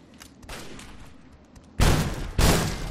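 Gunfire in Fallout 3: soft distant shots early on, then two heavy, loud blasts close together near the end, each with a rumbling tail.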